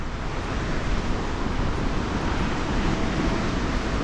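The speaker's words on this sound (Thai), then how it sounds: "ขนาดมองลงไปียังบ่เห็นน้ำตกเลยได้ยินแต่เสียงครับเพื่อน" Steady, dense roar of rushing water, broadband and unbroken throughout, like a powerful waterfall heard from nearby: Tad Fane waterfall, Champasak, southern Laos.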